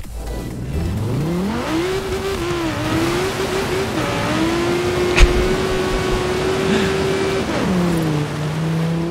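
An Audi Quattro races in Forza Horizon 4 with a loud, close engine that climbs through the revs, drops briefly on a gear change and climbs again. A sharp knock lands near the middle.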